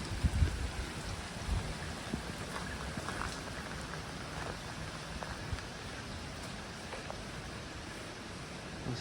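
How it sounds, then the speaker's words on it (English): Heavy rain pours steadily over a campsite on an overland drive from the UK to Australia, a constant broadband wash with scattered louder drops and no voices. "we decided to camp tonight because it is pouring with rain"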